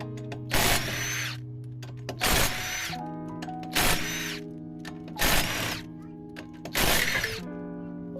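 An impact wrench zips off the lug nuts of a Mitsubishi Galant's passenger side tire in five loud, evenly spaced bursts, each ending with a clatter, under a steady background whine.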